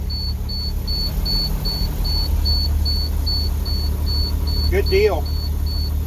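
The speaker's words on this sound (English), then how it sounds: "I'm going to let it do a normal idle." A shop engine idles at normal speed right after a key start, a steady low rumble under a constant high whine, while someone speaks briefly near the end.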